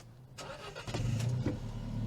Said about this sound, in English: Bring that sport exhaust to life.